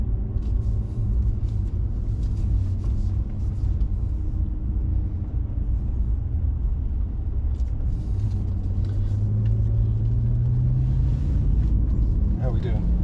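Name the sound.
2016 BMW M5 F10 engine accelerating on track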